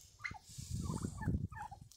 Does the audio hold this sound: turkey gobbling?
yes